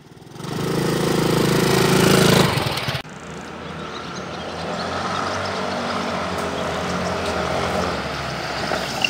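Motorcycle engine droning on a wet road in the rain, loud and steady at first and then dropping to a lower, continuous rumble mixed with road and wind noise.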